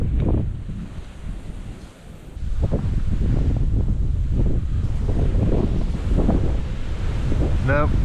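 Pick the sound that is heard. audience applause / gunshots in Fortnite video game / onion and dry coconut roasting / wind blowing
wind blowing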